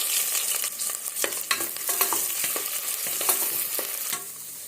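Long-sliced big onions drop into hot oil with fried whole spices for Bhai-style kuska, a bright crackling sizzle up close with scattered spoon scrapes as they are stirred, no voices.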